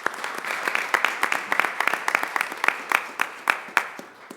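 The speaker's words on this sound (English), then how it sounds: "Let's give them a round of applause." An audience at a school board of education meeting applauds women's soccer All-State players, a moderate room of clapping with distinct individual claps standing out and swelling slightly toward the end.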